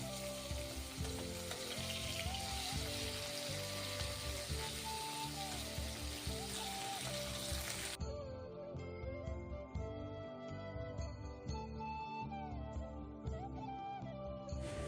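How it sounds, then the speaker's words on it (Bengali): Small young rohu fish fry lightly on a high flame in a hot kadai, giving a steady, dense, close sizzle that runs throughout with faint music in the background. "হাই ফ্লেমে আমি মাছগুলো কিন্তু একদম হালকাভাবে ভেজে নেব।"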